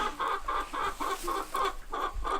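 Several chickens cluck in a rhythmic run of repeated calls close by in a coop, with a low rumble underneath and no talking.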